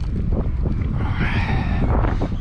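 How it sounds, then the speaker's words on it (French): Strong wind buffets a microphone outdoors, a loud, constant low roar and rumble that fills the whole stretch, with no talking. "Et là, on a un joli vent, on a une belle bise"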